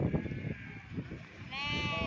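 Sheep bleat at a livestock market in Guduru, with a clear, drawn-out bleat near the end over someone talking and busy background noise.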